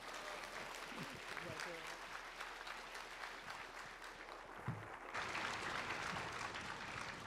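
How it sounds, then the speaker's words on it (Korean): Applause from a church congregation at a Christmas Sunday service, welcoming the pastor, a continuous clapping wash that swells louder near the end, with some speech mixed in. "큰 박수로 맞이해 주세요."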